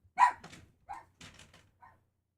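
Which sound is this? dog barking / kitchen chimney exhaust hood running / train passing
dog barking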